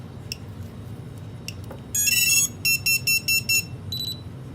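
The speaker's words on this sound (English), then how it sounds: "Now it will take about a minute in order to start beeping from this point." Lost-model buzzer on a Hellgate FPV drone sounds off with one long shrill tone, then a run of five short evenly spaced beeps and a softer final chirp, loud and close over a low background hum.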